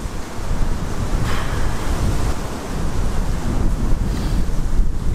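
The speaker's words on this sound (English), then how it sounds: "It's the wind, man." Strong wind roaring during an outdoor rainstorm, a loud, continuous broadband rush with gusty swells and buffeting against the microphone and no voices.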